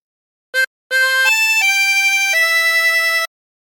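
A tremolo harmonica plays a short hymn phrase: one brief note, a pause, then several held, wavering reedy notes stepping downward, close and clear with no voices.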